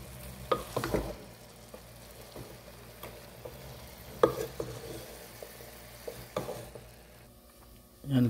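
Vegetables being stir-fried for Filipino noodles, a steady low sizzle broken by several sharp clicks and scrapes of a utensil against the pan, fairly faint, ending in a brief louder clatter.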